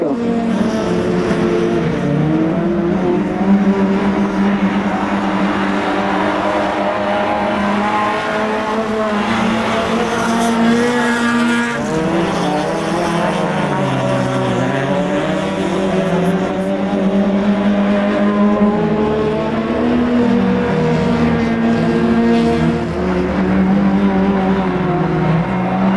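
Race cars in a winter auto race, engines roaring loud and steady with rising and falling revs over the whole stretch, continuous motor noise without pause.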